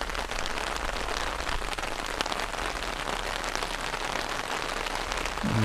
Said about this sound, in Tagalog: palakas yung ulan